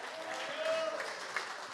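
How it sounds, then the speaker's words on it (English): An audience at a Latin music tribute event applauds, a steady wash of clapping that carries through the whole moment without a break. "Another big round of applause,"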